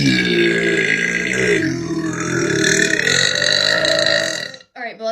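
Loud, drawn-out burps from a woman, one long rumbling belch stretching over several seconds with shifting pitch, then a brief pause and a short final gulp.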